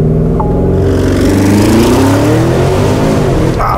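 A Porsche Cayenne Turbo GT accelerates hard from a launch start, its engine loud and close, the pitch climbing steadily through the gears with a roaring, continuous pull.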